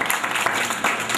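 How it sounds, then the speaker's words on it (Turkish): A group of village schoolchildren in Kulp applaud themselves in a short burst of close, dense clapping that holds steady throughout. "Hepiniz alkışlayın."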